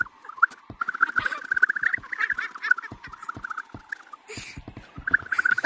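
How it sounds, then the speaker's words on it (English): Chirping, squeaky bird calls from a dead bird in the video game Gorilla Tag, a busy run of repeated short squeaks and chirps with occasional sharper bursts, fairly close and steady. "Hi, dead bird. Why do you keep squeaking?"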